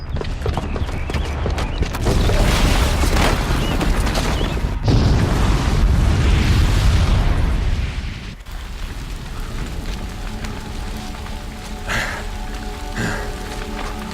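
A bomb booby trap goes off in Horizon Zero Dawn with a heavy, sustained roar of blast and debris that cuts out abruptly, leaving a lower rumble and scattered clatter afterward.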